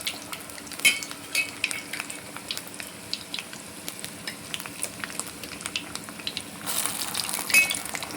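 Urad dal vadas frying in hot oil, a steady soft sizzle with occasional metal clinks of a utensil against the pan, growing a bit louder and busier toward the end.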